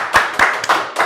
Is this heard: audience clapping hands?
yes